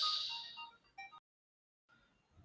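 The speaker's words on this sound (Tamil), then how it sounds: "ஏதோ ஃபோன் வந்துருச்சு" A phone's ringtone sounds in a short melodic burst of bright tones, then cuts out into silence before faint room noise returns, heard indoors without talk.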